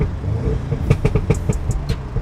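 A 2016 Audi S3 8V with a downpipe bounces off its soft limiter, the engine note chopping into a rapid series of close, loud pulses and crackling pops over steady drone.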